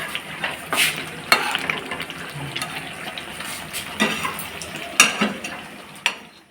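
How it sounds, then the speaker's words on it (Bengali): Rice fries in ghee in a kadai as it is stirred, giving a steady sizzle with scraping strokes and sharper clinks of the spoon against the pan. "আর এখানে কড়াইয়ের মধ্যে আর একটু ঘি দিয়ে এখানে চালটা ভালো করে এখন ভেজে টেজে নিচ্ছি"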